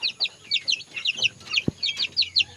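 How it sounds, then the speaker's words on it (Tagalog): Week-old chicks of a Belgian Asil and Burmese cross peep and cluck in quick, high repeated calls, close and clear, with one low thump partway through. "sisiw natin mga boss"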